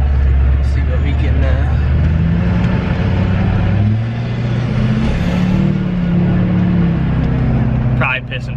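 A Duramax diesel truck engine idles with a loud, steady low rumble during an injector balance rate test, heard from inside the cab while someone talks over it.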